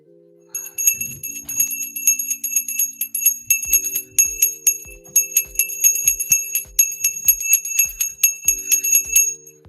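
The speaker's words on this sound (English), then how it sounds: "Oh, I've got the bell. The bell's under there." A small bell rung repeatedly and rapidly, bright ringing tones overlapping in a continuous jangle, close and fairly loud, with soft knocks underneath and no talking.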